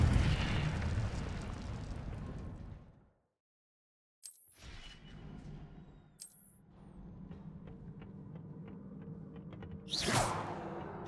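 Incendio fire spell cast in the Hogwarts Legacy video game: a roaring fiery whoosh fades into a brief silence, then bursts and crackling flare-ups return, with a final loud blast near the end.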